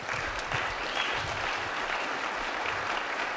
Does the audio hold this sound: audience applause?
yes